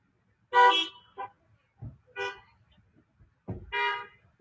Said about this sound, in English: go ahead and honk your horn.